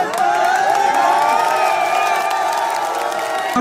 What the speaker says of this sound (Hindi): जोरदार तालियों से पुनः आमंत्रित करते हैं अर्जुन अल्हड़ जी को